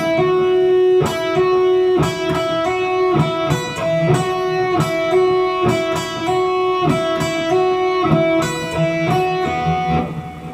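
Electric guitar plays a solo at a medium tempo, a steady run of clear, sustained picked notes with ringing harmonics, loud and close, with no talking.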